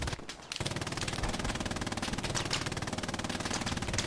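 Machine gun fire in the Hell Let Loose video game, a long continuous rapid burst of shots at a steady rhythm, loud and dense with no talking.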